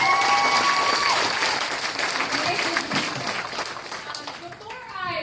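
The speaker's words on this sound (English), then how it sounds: "Give yourselves a big round of applause." Crowd applause at a packed evening event, a thick burst of clapping with whoops and children's voices mixed in, gradually thinning toward the end as chatter rises.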